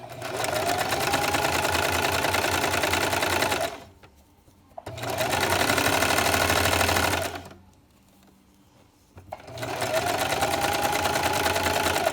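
A sewing machine zigzag-stitches fabric for a newborn baby sleeper in three steady bursts, each a few seconds long, with short quiet pauses between them. No voices are heard.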